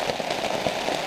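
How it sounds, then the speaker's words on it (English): Heavy rain pattering steadily on surfaces around a hammock camp in the Bowron wilderness, a dense, even hiss with close drops, alone without voices. "I don't know how well you can hear over the rain, but the rain really picked up"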